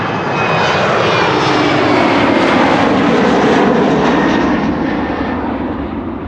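Transavia airliner jet engines roar steadily at Amsterdam Schiphol Airport as the plane begins moving forward, a loud, broad, sustained rush that swells gently and eases slightly toward the end.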